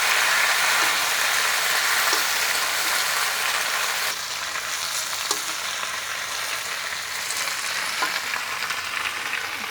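Kangkong (water spinach) fries in a pan with a strong, continuous sizzle and crackle, close by, easing slightly partway through while stirring scrapes and pops continue, with no talking.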